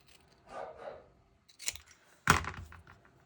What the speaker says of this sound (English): So I cut off this tab.